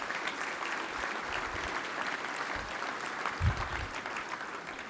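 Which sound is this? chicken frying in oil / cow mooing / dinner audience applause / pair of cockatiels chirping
dinner audience applause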